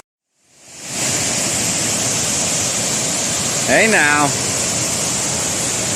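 Tiny waterfall along the Appalachian Trail, a steady broadband rush of falling water that starts after a brief silence and holds constant and fairly loud, with a short spoken exclamation over it near the end.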